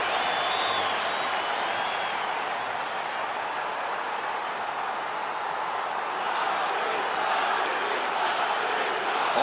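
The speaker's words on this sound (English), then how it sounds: "Khabib Nurmagomedov ready to make a statement in front of this capacity crowd here tonight" A capacity arena crowd in the UFC 5 video game gives a steady, loud roar and cheering throughout, rising slightly toward the end, with no clear speech.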